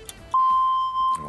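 A single steady electronic beep on a Bulgarian quiz show marks that time is up, lasting close to a second, loud and clean, with brief sounds before and after.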